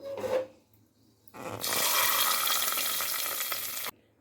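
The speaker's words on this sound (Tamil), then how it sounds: "இப்போ தாளிப்பும் ஊற்றிடலாம்" Hot oil tempering of mustard seeds, urad dal and garlic poured over mashed brinjal for kathirikkai kadaiyal: after a faint clink, a loud, sudden sizzle bursts up, holds steady and hissing for about two seconds, then cuts off.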